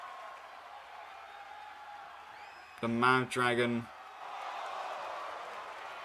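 Wrestling arena crowd cheering steadily at a fight night, a broad roar of voices that continues throughout, briefly under a commentator's spoken line in the middle.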